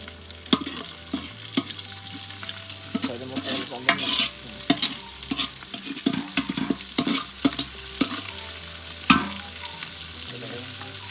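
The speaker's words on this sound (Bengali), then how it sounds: "এখন আমরা চালটারে ভালো করে ভাইজা নিব" Rice fries in a pan with fried onions, a steady sizzle broken by frequent scraping and clacking strokes of a spatula as it is stirred, close and fairly loud.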